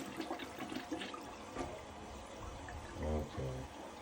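A toilet under repair in a New York City home flushes with a broad rushing, gurgling wash of water, moderately loud and close, with a voice briefly cutting in near the end.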